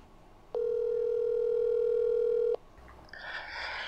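A steady telephone dial tone holds for about two seconds on a call-in line, clear and alone, then cuts off abruptly before muffled line noise.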